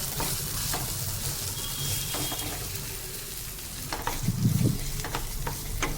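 A soft vegetable bhorta mash is stirred and mixed in a pan, producing a continuous wet, sizzling churn with brief scraping strokes, close by and fairly steady.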